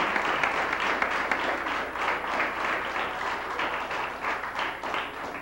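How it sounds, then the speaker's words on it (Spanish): A crowd applauds during a trophy presentation at a sports event, the Clásico Regio: steady, fairly loud clapping from many hands with sharp individual claps and thumps standing out, continuing evenly for several seconds. "un aplauso para ellos"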